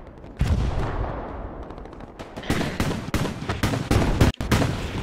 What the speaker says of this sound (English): Somebody's shooting like a motherfucker right behind me